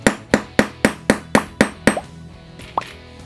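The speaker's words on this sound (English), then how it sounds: "grab the punch and punch a hole. Just tap, tap, tap the hammer." A hammer taps a metal punch to make a hole during a caravan bunk bed fitting: eight sharp, evenly spaced close strikes, then a pause and one final lighter clink, with no talking.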